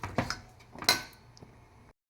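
A spoon stirs gongura greens with salt and jaggery in a pot, giving a few sharp metal clinks and scrapes close by, then a quieter, fading rustle.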